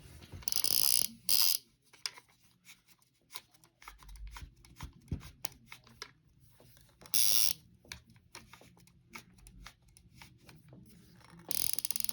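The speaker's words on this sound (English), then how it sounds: "Okay, now let's go ahead and tighten the drag." Drag adjustment on a Shakespeare SC15 spincast fishing reel being tightened, giving bursts of ratcheting clicks and mechanical rattles that come and go with quieter handling between, close up with no talk.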